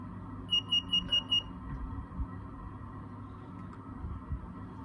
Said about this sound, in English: the red LED will turn on and the buzzer will turn on